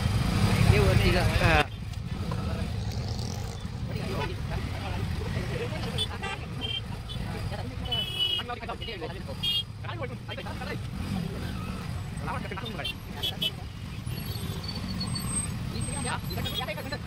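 Cars and trucks jammed on the road near the Mhasa fair (Mhasa Yatra 2025, Murbad) give a steady, close engine rumble with occasional horn toots and faint brake hiss throughout.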